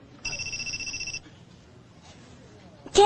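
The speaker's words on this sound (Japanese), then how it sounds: "携帯鳴ってますよ。" A mobile phone rings with a bright electronic warble for about a second in a quiet indoor room, then stops; a short loud knock or clatter follows at the end.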